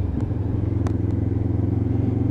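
A Lexmoto LXR 380cc motorcycle with a stainless exhaust can rides through roundabouts, its engine a steady low, throbbing rumble heard from on board, with a few brief clatters and wind noise.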